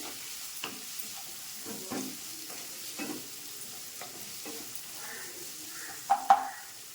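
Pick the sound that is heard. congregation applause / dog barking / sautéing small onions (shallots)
sautéing small onions (shallots)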